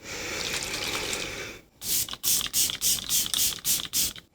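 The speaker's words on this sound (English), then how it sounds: "Okay, let's just go ahead and spray the face." A facial mist spray bottle hisses in a quick series of about eight short bursts onto a face, close by, after a steady rushing background stops.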